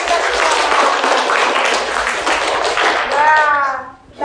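A classroom of children claps together in a burst of applause, loud and close, with children's voices mixed in and a brief chant-like call near the end.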